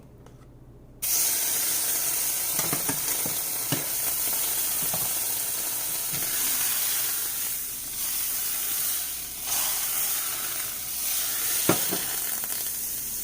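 Butter and brioche French toast sizzling loudly and steadily in a hot pan, a dense continuous fry with occasional crackles and faint scraping clicks, starting abruptly after a second of quiet.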